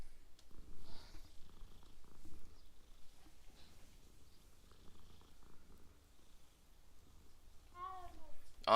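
A cat purrs steadily while being petted in the video game Hogwarts Legacy, a soft continuous rumble under quiet game ambience, ending with a brief higher meow-like call.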